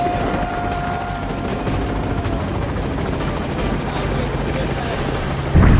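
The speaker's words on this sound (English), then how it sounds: "Okay, I think I hear the helicopter." A helicopter approaching with a steady rotor throb and a wash of broad noise, fairly constant in level, ending in a sudden louder thump.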